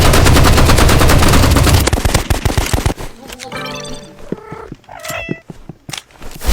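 Assault rifle gunfire in the Roblox Rivals game, a loud dense rapid burst for about two seconds, then scattered shots and short game effects with quieter, sparser activity.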